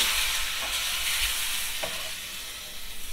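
Green peppers frying in a pan for menemen at a street food spot in İzmir, giving a steady broadband sizzle with a couple of faint stirring clicks, close up and with no voices.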